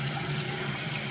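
Water running from a newly installed bathroom vanity faucet into the sink, a steady close hiss and splash with no break.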